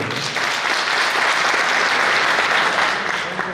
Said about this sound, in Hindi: सबसे पहले तो आप एक बार जावरा फोटोग्राफर एसोसिएशन के लिए ताली बजा दीजिए।